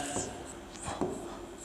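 Pen scratching out a maths expression by hand on paper during a lesson, a few short quiet strokes close by over a faint background hum.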